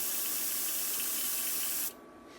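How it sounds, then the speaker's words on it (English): An airbrush being cleaned out gives a steady, close hiss of spraying air and liquid, holding constant before cutting off abruptly near the end, leaving a faint residual noise. "This airbrush is acting finicky. It's not want to clean out right."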